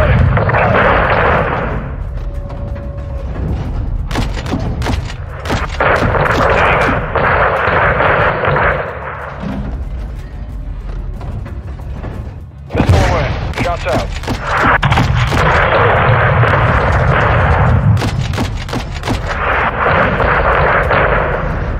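In Call of Duty Modern Warfare 2, air support fires on a convoy with heavy bursts of cannon fire and explosions, loud and sustained in long rolling waves separated by short lulls, with radio voices talking over parts of it.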